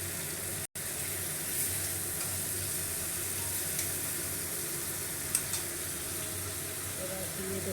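Masala for a fish curry with potato and cauliflower sizzles steadily as it fries in a pan, with faint stirring scrapes and a brief tap near the end. It is close and continuous, with no voices.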